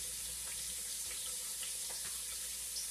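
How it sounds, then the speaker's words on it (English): Pigeon peas and olives being drained in a kitchen strainer, with a faint, steady rush of liquid pouring through for the whole stretch and no talk. "I'm just gonna strain them off."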